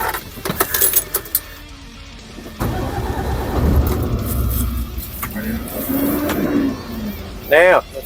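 A truck engine cranks and catches, then idles and pulls away with rising revs, fairly close inside the cab, with keys jangling and someone talking over it.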